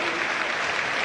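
Steady, dense applause from an arena audience at the 2019 Romanian Nationals gymnastics event finals, honouring three gymnasts on the podium. The clapping is sustained and even throughout, with no break.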